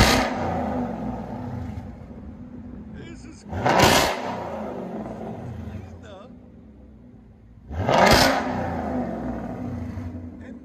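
2020 Ford Mustang GT with a 5.0L Coyote V8 and MBRP Installer Series 3-inch cat-back dual exhaust, two sharp loud revs a few seconds apart over a rumbling idle, with people talking nearby.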